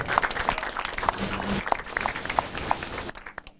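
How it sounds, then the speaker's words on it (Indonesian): Audience applause at a stand-up comedy show in Pontianak, honoring local high school students: a steady wash of clapping for about three seconds that cuts off abruptly, leaving near silence at the end. "Tepuk tangan dulu buat anak-anak SMA 7 Pontianak"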